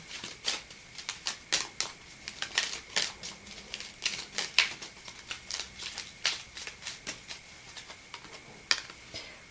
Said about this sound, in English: let's pull a card from the Lover's Oracle really quick so we can wrap this up.